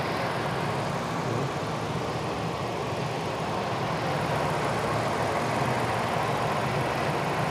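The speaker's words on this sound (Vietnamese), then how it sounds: "Cái máy này đang nổ máy, bà con đừng nên mở này ra." A Hyundai Grand i10 engine idles with a steady, even hum heard up close from the open engine bay, unchanging for the whole stretch.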